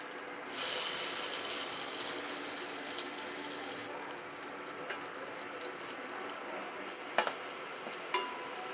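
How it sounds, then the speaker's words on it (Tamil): Onions hit hot oil in a pan with a loud sizzle that gradually settles into a steady, softer frying hiss, with a few faint clinks of a utensil near the end. "ஓகே, வெங்காயம் வதங்கினது."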